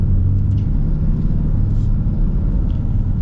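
A 2025 Ram 3500 Big Horn heavy-duty pickup with the high-output engine cruising unloaded, giving a steady low road rumble and engine drone heard from inside the cab, with no talking.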